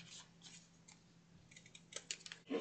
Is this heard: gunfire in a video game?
no